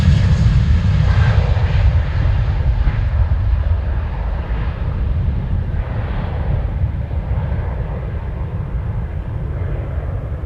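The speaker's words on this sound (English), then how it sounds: "Oh, I see a KLM jet making its way over here." A KLM widebody jet airliner, a Boeing 777-200 or Dreamliner, roaring steadily at Amsterdam Schiphol airport, a loud broad engine rumble that slowly fades as it passes, with no voices.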